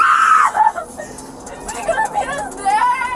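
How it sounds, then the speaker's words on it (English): A girl's high, wailing scream rings out inside a patrol car, then people start talking in the cramped cabin. "The patrol car echoes with her scream."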